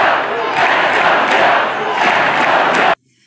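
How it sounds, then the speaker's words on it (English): Election-eve political rally crowd cheering and roaring loudly for nearly three seconds, a dense sustained wall of voices that cuts off abruptly. "President Biden was able to get the crowd back and cheering even louder for him and Moore."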